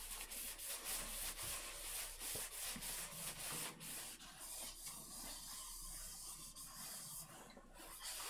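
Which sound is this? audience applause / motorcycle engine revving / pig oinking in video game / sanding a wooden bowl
sanding a wooden bowl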